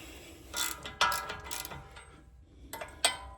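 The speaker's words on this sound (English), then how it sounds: "So it'll be a 12-point socket to get these off." A ratchet fitted with a 12-point socket loosens brake bolts on a 2008 Range Rover during a pad and rotor job, producing several short, close metallic clicking bursts spaced irregularly with pauses between them.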